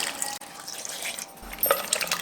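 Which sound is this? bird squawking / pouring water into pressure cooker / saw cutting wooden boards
pouring water into pressure cooker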